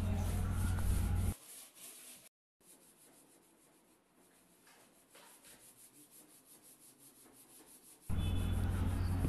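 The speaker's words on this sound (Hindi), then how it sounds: "इसके लिए हमने 120 नंबर का पटे वाला रिगमाल इस्तेमाल किया है इस पर।" Hand sanding an old polished wooden almirah with 120-grit sandpaper: steady rasping rub strokes, loud at the start and end with a softer, rhythmic scrubbing passage between.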